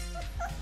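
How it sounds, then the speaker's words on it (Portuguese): A puppy gives a brief, thin whimper, a single short whine of under a second, close and fairly clear. "Ah, isso é um cachorrinho."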